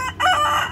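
A rooster crows once, loud and close, a rising then sustained call lasting under a second with no voices over it.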